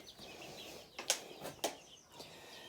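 Farm birds flap their wings in a few quick, sharp bursts close by, against a quiet outdoor background with faint rustling between the flaps.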